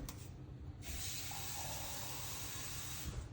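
Water streams into a cooking mixture for a homemade sugar remedy, a steady gushing pour that starts after a brief moment and continues evenly, close and alone.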